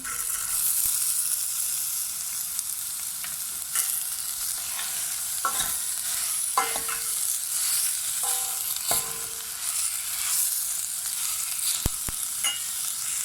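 Dried eggplant tossed into a pan of sautéing food in a Turkish kitchen, giving steady close frying sizzle with several sharp clatters and scrapes of stirring and ingredients landing, no voices.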